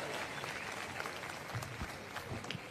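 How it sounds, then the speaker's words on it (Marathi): An audience claps steadily to welcome a one lakh rupee donation presented to the Vanchit Bahujan Aghadi at a public gathering; dense, even applause, moderately distant and fairly quiet, continuing throughout. "टाळ्या वाजवून सगळ्यांनी स्वागत करावं."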